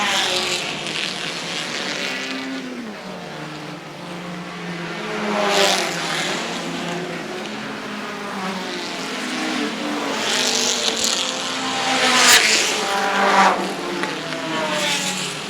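Vintage sports cars under 2.0 litres, among them a Lotus Elan and a Saab Sonnet, race past the finish line at a road-course grand prix, their engines rising and fading in several loud passes over about fifteen seconds.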